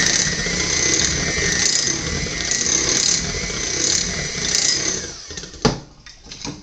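An electric mixer whirs through chocolate cake batter at low to medium-low speed, a steady buzzing hum close up with a faint rhythmic pulsing, stopping near the end with a couple of bumps as it's set down.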